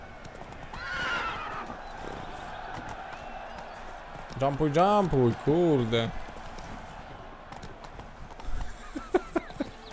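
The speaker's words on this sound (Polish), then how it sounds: "Ten koń fajnie jeździ." Horse galloping in The Witcher 3: Blood and Wine, with clip-clop hoofbeats and a loud whinny from about four to six seconds, and someone talking over the action.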